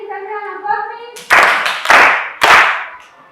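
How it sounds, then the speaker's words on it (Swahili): Schoolchildren in a primary school classroom clap in three loud, sharp bursts after a voice, the applause close and filling the room. "Samira makofi"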